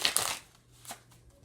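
A deck of cards being shuffled at a psychic reading, a quick papery riffle burst followed by a softer brief flutter, close and fairly quiet with no speech.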